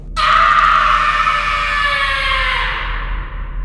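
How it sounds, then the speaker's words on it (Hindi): A sharp, high scream starts abruptly and holds loud for about three seconds before fading away, with no other voices around it. "फिर तभी मुझे एक बहुत ही तीखी चीख सुनाई दी"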